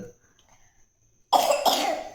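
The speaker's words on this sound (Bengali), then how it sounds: "কাশি হয়ে গেছে ওর।" A young girl coughing at home at night, a sudden harsh pair of close coughs after a quiet stretch with a faint steady tone in the background.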